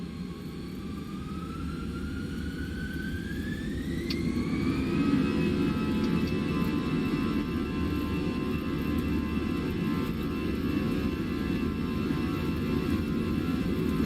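Twin CFM engines on an A320 in a flight simulator spool up to takeoff thrust, a steady loud roar with a rising whine that settles into a continuous hum.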